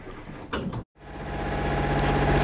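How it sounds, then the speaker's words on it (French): A boat engine freshly started after a short silence, settling into a steady low idling hum that grows gradually louder and stays continuous to the end. "je viens de démarrer le moteur"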